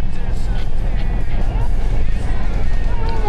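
Steady road rumble from inside a moving car on the way to a dog park, loud and continuous, with someone talking over it throughout.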